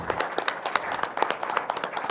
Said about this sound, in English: Let's give them folks a round of applause.